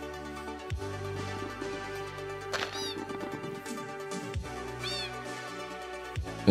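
Cats meowing in Minecraft, a few distinct rising mews heard over steady game background music and ambient tones, fairly clear and close.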